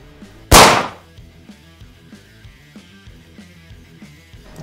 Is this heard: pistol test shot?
yes